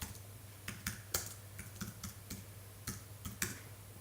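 Keys clatter on a Mac computer keyboard in short, uneven bursts of clicks under a steady low hum, close and fairly quiet, with no talking.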